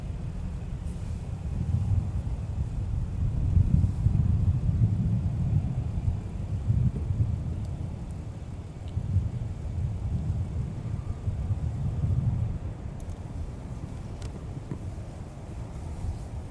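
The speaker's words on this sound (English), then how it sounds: "That little gust was wake turbulence, that's what I'll call it." A wind gust from the wake turbulence of a departing Airbus A330 at Minneapolis airport, heard as low rumbling buffeting against the microphone that swells and fades over several seconds, with faint distant airport noise.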